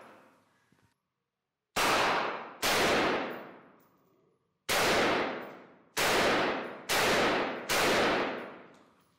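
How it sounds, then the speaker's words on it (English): Six loud gunshots are fired into a clay block at irregular intervals, each a sharp crack with a long ringing decay, the first after a short quiet pause. "let's just massage this piece of clay with some more bullets"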